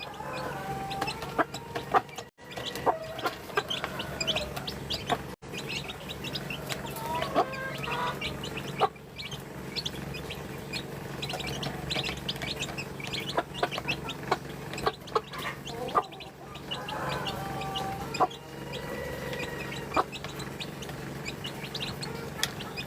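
A flock of backyard chickens clucking and squawking continuously at close range, with repeated sharp calls and bursts of cackling over a low farmyard hum, broken by a few sudden knocks.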